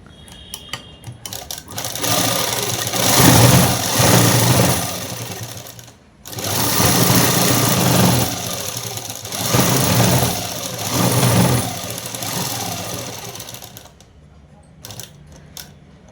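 A sewing machine stitches a shirt in loud, rapid bursts of mechanical clatter, stopping briefly between runs and then starting again, close to the listener, with a voice speaking faintly during the pauses.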